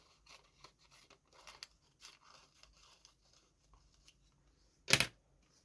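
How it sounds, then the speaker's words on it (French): Scissors cutting paper while making a handmade card: faint rustling and small clicks, then one loud, sharp snip close to the microphone near the end. "Non, pas ces ciseaux-là."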